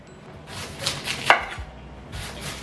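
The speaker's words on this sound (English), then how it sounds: "while I'm cutting these veggies" A knife chops cabbage, carrots and peppers on a cutting board in a handful of irregular close thuds and crisp slices, with quiet rustling between strikes and no talking.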